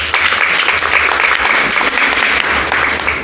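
Sustained audience applause acclaiming Jesus Christ at a church service, a dense, steady clatter of many hands clapping loudly and evenly for about three seconds with no break.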